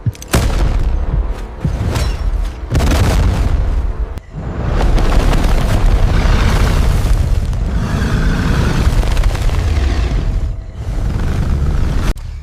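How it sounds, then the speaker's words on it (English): A flashbang grenade goes off in a dramatized underground temple scene. Loud, deep booms and rumbling roll almost continuously, with sharp bursts near the start. "Use the flashbang! Blind it so we can fall back!"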